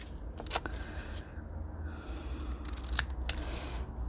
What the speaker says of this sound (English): cutting these out. Make some decorations.